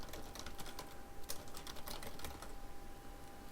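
Typing on a computer keyboard while entering a slide title, quiet rapid key clicks in an uneven patter, faint and close, with no talking.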